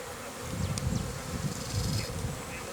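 Honeybees buzzing around a hive at a forest apiary in spring, a steady, close, dense drone of many insects with brief louder passes of individual bees.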